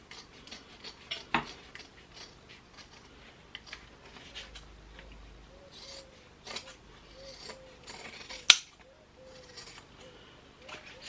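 Scissors trimming the fabric seams and corners of a sewn clutch wallet, scattered quiet snips and rustling fabric handling with a few sharper clicks, close and sparse over a low room hush.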